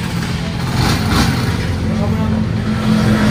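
Honda TMX 125 motorcycle converted to a front disc brake, riding during a brake test, a loud steady engine drone with road and wind noise throughout, fairly close.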